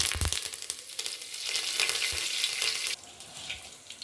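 Fennel seeds, cumin, black pepper and curry leaves hit hot oil, bursting into a loud crackling sizzle with a few sharp pops and thuds early on, then settling into a quieter steady fry; no voices.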